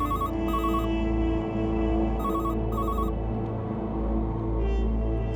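A landline telephone rings in a Crime Patrol police-drama scene, sounding two double electronic trills close and loud over a steady background hum, with no voices.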